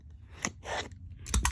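Scissors snip through rubber duck packaging in three quick, close cuts, each a short crisp crunch, within a second and a half.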